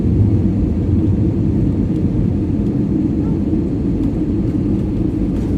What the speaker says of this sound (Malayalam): യെസ് ടച്ച് ചെയ്തു വളരെ സോഫ്റ്റ് ലാൻഡിംഗ് ആയിരുന്നല്ലോ